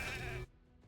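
A sheep bleats in the fantasy RPG Raid Shadow Legends, a loud, warbling cry that cuts off abruptly after about half a second and leaves only faint game ambience.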